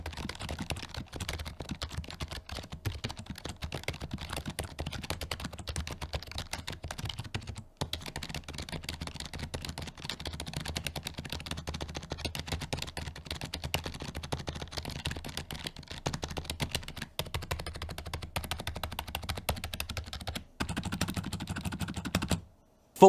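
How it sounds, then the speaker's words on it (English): Rapid, quiet keystrokes on a SteelSeries Apex 3 TKL gaming keyboard with hushed switches patter continuously up close, with a couple of brief pauses and a final stop. "when it comes to the sound, they're some of the quietest switches that you can get."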